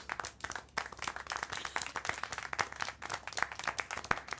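Rapid, dense clapping from a group in the video game Syberia: The World Before, a steady burst of applause with sharp individual claps throughout.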